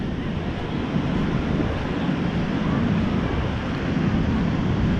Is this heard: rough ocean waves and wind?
yes